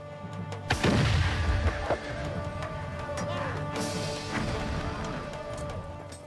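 Heavy artillery bombarding the walls of Constantinople: a loud close boom with a rumbling tail, followed by further distant blasts and crashes over a continuous low rumble.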